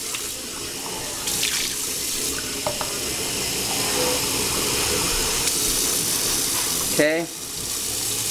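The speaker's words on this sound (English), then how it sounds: "now let me turn the sink off" Tap water running steadily into a sink, a continuous hissing splash throughout, with a brief spoken word and a small squeak near the end.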